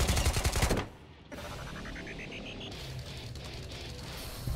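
Rapid automatic gunfire in the video game Ghosts of Tabor, a dense burst of shots that cuts off abruptly, followed by a rising mechanical whine and steady background noise.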